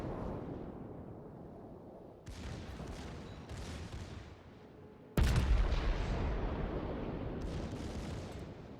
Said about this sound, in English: you can see the secondaries here of the Yamato are already opening up